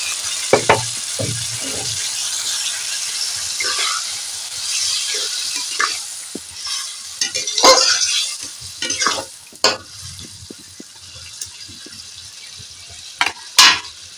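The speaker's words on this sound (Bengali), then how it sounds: "মশলা ভাজা হয়ে গেছে, আমি জল দিয়ে দেবো।" Water goes into spices frying with bitter gourd for a potato and lentil-dumpling curry. A hissing sizzle is broken by a string of close knocks and scrapes of stirring, louder clatters at the end.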